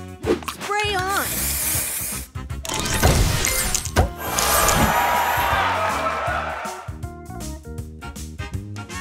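Spray booster effect from the Match Masters mobile puzzle game: a loud hissing burst over busy game music and chiming effects, with an announcer-style voice calling out moves.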